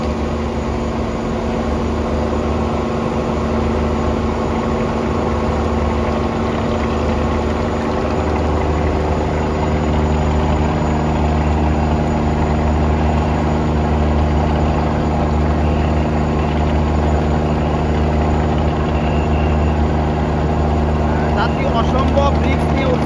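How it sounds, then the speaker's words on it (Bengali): A trawler boat engine running steadily, a loud droning hum with strong low harmonics that holds for over twenty seconds, close by, with voices faintly under it. "ট্রলার দিয়ে উঠতে, দেখতে পাচ্ছেন।"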